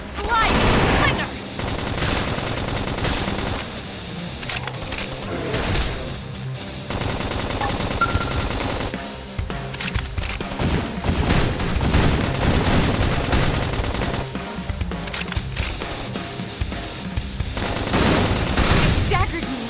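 Rapid automatic gunfire and bursts from a Xenoblade Chronicles X battle, loud and sustained over dense music and effects for the whole stretch, with brief booming hits.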